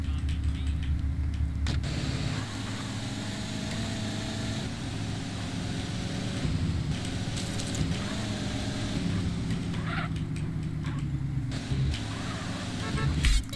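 A car drives steadily in the game GTA San Andreas, its engine droning and shifting pitch throughout with occasional mechanical creaks, while someone talks over it.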